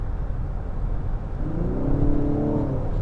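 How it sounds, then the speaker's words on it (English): A 2021 Genesis G90 luxury sedan accelerating in Sport Plus mode, a steady engine rumble and whir heard from inside, rising in pitch as the revs climb, with no talk over it. "And you hear the difference in the drive mode when you step on the gas."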